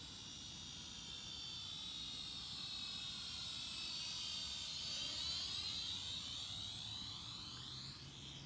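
A Syma X5UW FPV starter drone flies with a steady, high-pitched whirring buzz whose pitch rises and sweeps as it maneuvers, moderately close and alone.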